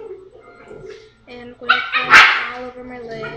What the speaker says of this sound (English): my dogs are fighting in the background.